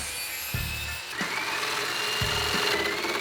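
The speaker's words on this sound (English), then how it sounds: "finish off the cuts with the jigsaw" A jigsaw finishes cuts through a wooden table saw push block clamped to a workbench, a loud, continuous buzzing rasp with a few brief changes in pitch as the blade works through the wood.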